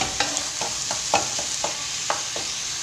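Parsley gets stirred into minced meat frying in a pan, with a continuous close sizzle broken by about eight soft scraping stir strokes at a steady rhythm.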